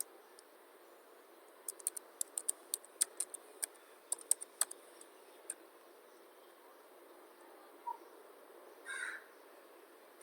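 Keys on a computer keyboard are tapped in a short, quiet burst of irregular clicks, followed by a couple of isolated taps and a brief rustle in an otherwise silent room.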